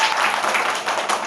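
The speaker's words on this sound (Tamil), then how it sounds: "கைத்தட்டு." A brief burst of people clapping their hands, a dense patter lasting about a second, close and fairly loud.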